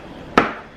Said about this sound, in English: Cutting up the garlic. Slicing it real nice.